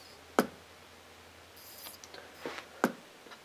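A homemade magnetic pulser discharges a capacitor through an SCR into a coil, giving sharp, isolated snaps: one near the start and two close together near the end, with faint clicks and quiet hum between them.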